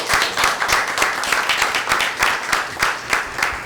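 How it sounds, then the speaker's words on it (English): A small group claps at a Fairmount Heights council meeting, scattered, fairly close hand claps in an uneven rhythm that continue steadily throughout. "I want to give them some applause also"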